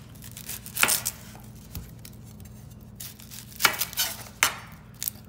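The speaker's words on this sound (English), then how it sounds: "I'm going to go through the first skin of the onion and peel it back to get all that yellow off" The outer skin of an onion is peeled back in a few quiet, crisp tearing and crackling bursts, close and soft, separated by short pauses, with no speech.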